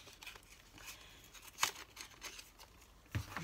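Quiet crinkling and tearing of packaging close up, with a couple of sharp rips among softer rustles.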